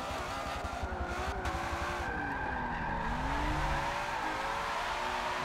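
A race car in Forza Motorsport 7 on worn tyres through a final corner, its engine a loud continuous drone with rising and falling pitch as it revs hard and climbs, tyre squeal woven through, no talking.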